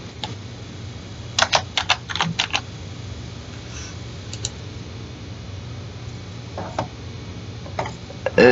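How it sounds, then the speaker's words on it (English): Computer keyboard typing in short scattered bursts of clicking keystrokes, close but fairly soft, with quiet pauses between groups over a faint steady background hum. "I've got to type it up."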